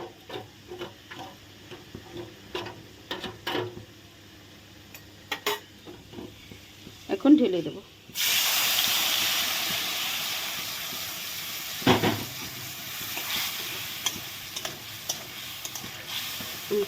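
Papaya curry sizzles and hisses in a pan as chilli powder and turmeric are stirred in, a loud burst of frying setting in partway through after quieter scraping and clinks of the spoon against the pot.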